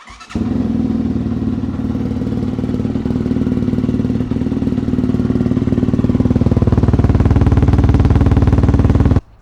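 A KOVE 450 Rally motorcycle with a loud racing exhaust fires up for its first start and idles with a rough, rapid thumping, growing louder before cutting off abruptly.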